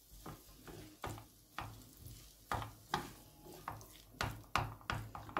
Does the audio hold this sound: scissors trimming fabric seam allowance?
no